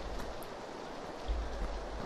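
Rain falls steadily in the PUBG battle royale video game, a dense, even hiss with a low rumble beneath and no voices.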